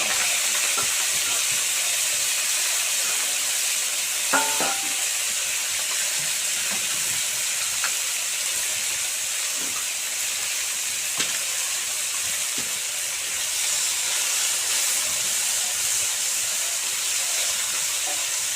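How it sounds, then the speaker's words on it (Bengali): Small fish fry in hot oil in a wok, giving a loud, continuous sizzle and hiss with a few sharp spits and crackles throughout. "এবারে আমি মাছ দিয়ে দেবো। কড়াই আমার গরম হয়ে গেছে।"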